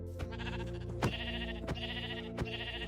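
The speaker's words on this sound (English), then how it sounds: "Probably take out some sheep as well." Sheep in the Minecraft video game bleating with a clear, wavering call that continues throughout, cut by several sharp clicks from gameplay.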